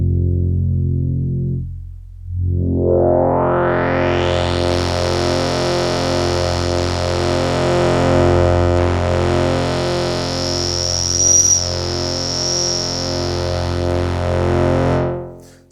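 A Moog Model 15 iOS app synth bass holds a buzzy, sustained note as its filter opens and overdrives into gritty distortion, loud and continuous for about fifteen seconds before cutting off.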